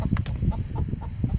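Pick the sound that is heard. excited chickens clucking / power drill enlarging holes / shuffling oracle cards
excited chickens clucking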